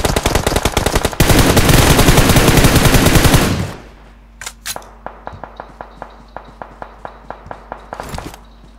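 Gunfire in PUBG Mobile on the Livik map: a loud, sustained automatic burst for a few seconds, then a quieter string of evenly spaced single shots, with no talking.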